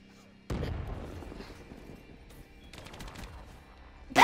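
A turret fires in a Black Ops 3 match. A heavy boom lands and rumbles away, a short rapid burst of shots follows later, and another loud blast hits at the very end.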